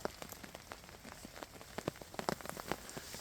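Steady rain pattering on a surface at a hammock campsite, a faint, dense scatter of drops with sharper ticks here and there.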